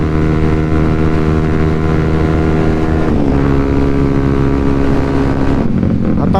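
A Honda CBR motorcycle engine roars hard on a night ride, loud and sustained. The revs change pitch around three seconds and again near the end, and wind rushes steadily over the microphone.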